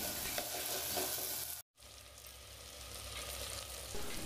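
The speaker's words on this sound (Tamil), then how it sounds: "சுண்டக்காய் லைட்டாக கலர் மாறுற அளவுக்கு எண்ணெயிலே வதக்கி விடுங்க." Sundakkai (turkey berries) frying and being sautéed in oil, a continuous dense sizzle with a brief break of near-silence midway, close and steady.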